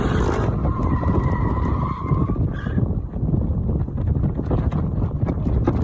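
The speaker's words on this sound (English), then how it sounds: "drifting their car" Tires on a drifting car screech loudly and continuously, with a sustained squeal over engine roar and wind buffeting; the skid wavers in pitch, fades briefly near the middle, then the rough roaring carries on.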